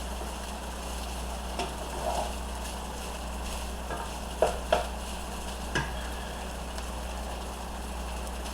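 Fried rice sizzles in plenty of oil in a big skillet on an electric stove, a steady low frying hiss under a constant hum, broken by a few sharp scrapes and clicks of stirring.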